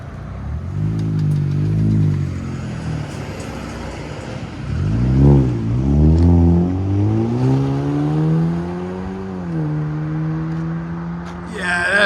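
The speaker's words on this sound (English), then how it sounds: "Ford Fusion Turbo with a high flow cat, vibrant resonator, and muffler delete" A 2020 Ford Fusion 1.5L EcoBoost turbo with a high-flow cat, Vibrant resonator, muffler delete and 4.5-inch tip revs loudly up close, its exhaust drone rising and falling through several throttle blips before settling to a steady idle.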